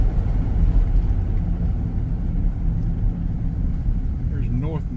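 Road traffic heard from inside a car driving through Athens, Georgia on a Sunday morning: a continuous low rumble of engine and tyres, with a voice speaking over it.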